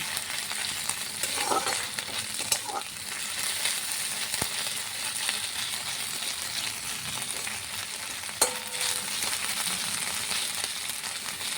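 Dried fish (shutki) fries in a pan with a steady, crackling sizzle, broken by occasional sharp clacks and scrapes of stirring, all fairly close and with no voices.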